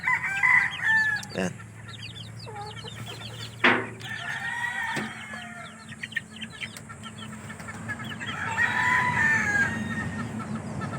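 A captive red junglefowl (labuyo) rooster crows loudly and close by, several crowing calls overlapping with other chickens clucking around it on a farm, with no talk.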